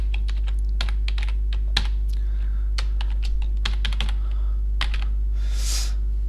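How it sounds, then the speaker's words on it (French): Code typed on a computer keyboard, a run of close, crisp keystrokes in an uneven rhythm over a steady low hum, with no talk. "si je tape du code n'importe lequel ici"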